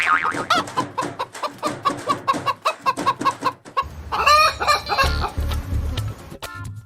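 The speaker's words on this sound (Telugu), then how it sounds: "ఇక్కడ కోడి కట్టేసిందిగా" A tied-up chicken in a village clucks repeatedly in quick bursts. A louder, squawking flurry near the end suggests agitation. The bird sounds close, with low rumbling noise underneath.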